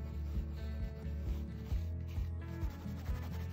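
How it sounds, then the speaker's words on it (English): Fine steel wool scrubs dark spots off silver solder on stained glass work, making a steady close rubbing and scraping in short repeated strokes, with no talk. "What we have to do is take this fine wool, whatever this is, and scrape all of this down."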